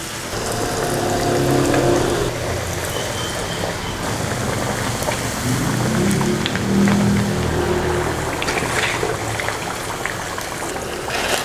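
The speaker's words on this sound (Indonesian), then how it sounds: "Sekarang kita mau menggoreng ubi." Sweet potato deep-fries in oil, sizzling and crackling continuously at a steady, loud hiss close by.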